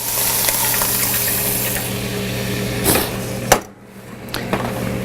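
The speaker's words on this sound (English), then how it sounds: "and we add the water" Water poured into a pan of browned ground beef, a sizzling, splashing rush over a steady low kitchen hum, with a sharp clatter near the end.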